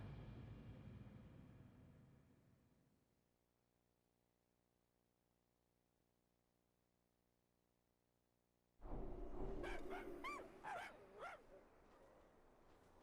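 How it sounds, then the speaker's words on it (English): Pet dog in the World of Warcraft video game, a burst of several quick yipping barks and whimpers after a long near-silent stretch, following a fading low hum and sounding fairly close. "If you hear barking from the game sometimes"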